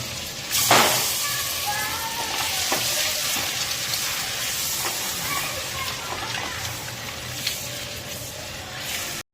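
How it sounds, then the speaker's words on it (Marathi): Eggs frying in a pan of hot oil with a little butter, a steady close crackling sizzle throughout with a sharp spatter near the start and faint clinks of a utensil. "दोन मिनिटं फक्त अंडी फ्राय करून घ्यायची आहेत, जेणेकरून मसाले लागले जातील त्याला।"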